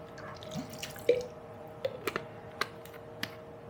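Moore's marinade splashed onto raw chicken as a coating, heard as a few small, sparse wet drips and taps, close and faint, with no talking.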